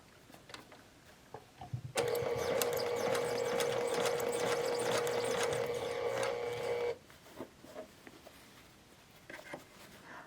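A sewing machine stitches lace onto rag doll fabric in one steady whirring run of about five seconds, close and even, with quiet handling noises before and after.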